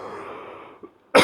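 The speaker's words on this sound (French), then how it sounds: "J'avais arrêté de tousser, puis là je recommence." A person coughs once, a single sudden loud burst at the end, right after a fading voice and a brief quiet gap.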